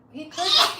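One quick sneeze builds from a short breathy intake into a bright, hissy burst, close by.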